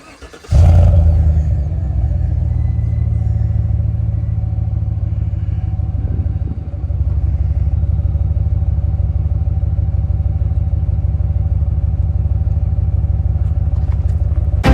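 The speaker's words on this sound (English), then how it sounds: "here's the first start with a straight pipe." A 2018 Chevrolet Tahoe SUV engine fires up with a sharp start, then settles into a loud, rough, throaty idle from a straight-pipe exhaust with the muffler deleted, rumbling steadily and close by.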